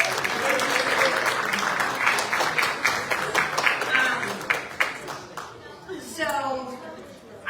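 Applause from a school audience greeting a new music teacher at a Wall of Fame event, dense clapping that thins out gradually, with a voice speaking at the close.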